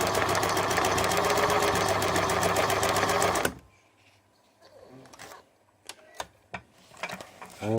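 A Singer Model 527 sewing machine stitches with a custom hybrid cam, running fast and steady at close range for about three and a half seconds before stopping, followed by quiet handling clicks and taps.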